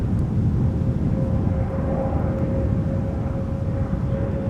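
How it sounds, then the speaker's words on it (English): An SAS airliner climbs away in a go-around at Amsterdam Schiphol, a loud, steady, low jet engine roar with a faint thin whine, heard from the ground without voices. "Why is the SAS climbing and not landing?"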